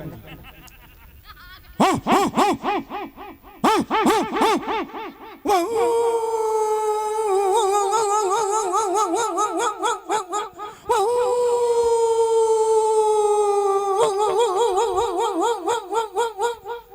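A voice imitates an old village dog howling, as in Bihar or UP comic mimicry, with drawn-out wavering wails after a few short barking yelps, loud and close, in a stage performance.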